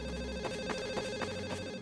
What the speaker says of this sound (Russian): телефон, слышишь?